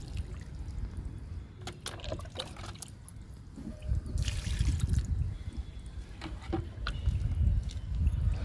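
Liquid fertilizer is poured onto chrysanthemum plants, with a soft, intermittent trickle and splash of liquid against leaves and soil under low outdoor background noise, with no talk.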